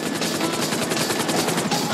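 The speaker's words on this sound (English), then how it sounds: "FIB chopper, he's on to us." An FIB helicopter in the GTA 5 video game closes in during a rooftop raid, its rotor a loud, continuous pulsing roar filling the scene with no talk.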